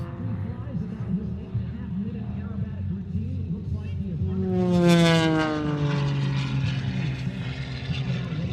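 Propeller aircraft performing aerobatic maneuvers at the Thunder Over Louisiana airshow, engine drone swelling loudly around the middle with a sweeping pitch shift as it passes, crowd chatter and talk underneath throughout.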